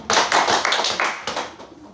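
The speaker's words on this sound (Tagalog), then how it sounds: "Pakibigyan ng 3 palakpak si Ken." A classroom of pupils clapping together, a loud, close burst of quick overlapping claps in a rough rhythm that fades out after about two seconds.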